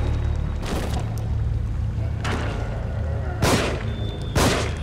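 Gunfire in the survival horror game The Evil Within, with several loud, separate shots about a second apart ringing over a constant low rumble of game ambience.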